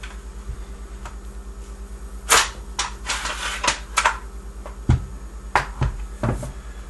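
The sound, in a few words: FN FS2000 rifle upper receiver sliding off during disassembly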